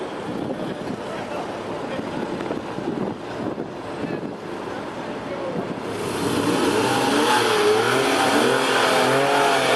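Porsche sports car with stability management switched off, driven on a skid pad at a Miami Homestead road show, engine revving and rising in pitch under wind buffeting, getting louder toward the end.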